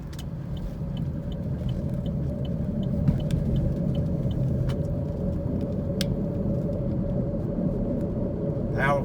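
A car driving on a road through the Copper Basin in Polk County, Tennessee, makes a steady, loud low rumble from inside the cabin, with a few faint clicks and a brief voice over it.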